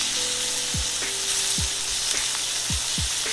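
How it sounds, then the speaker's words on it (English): Lamb T-bone steaks sear loudly in a hot pan, a constant close-up sizzle broken by several short scraping or shifting sounds as the meat is moved. "let's flip these suckers, see how we did on our sear"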